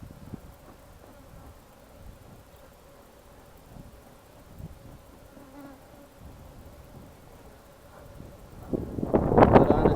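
Honey bees buzzing around an opened hive during a queen search, a faint continuous drone low in the background, with wind-like rumble and handling noise growing louder near the end.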